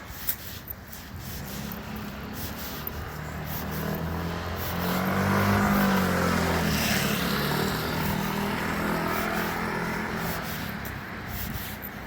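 A car passes on a street at night, its engine noise swelling to a peak midway and then holding as a steady rumble over continuous background road noise, with no talking.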